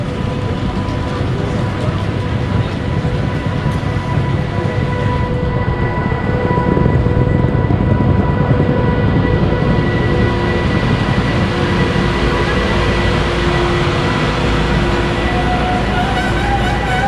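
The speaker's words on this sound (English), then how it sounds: "here we can see our train today arriving" A Bergen Line train hauled by an L18 locomotive rumbles into a station with a low, continuous roar and faint high whines, growing slightly louder midway as it pulls alongside.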